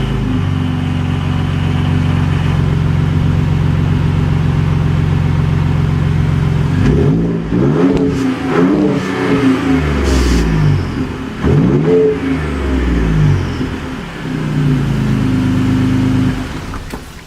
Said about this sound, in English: let's do a, you know, a start and see how the exhaust sounds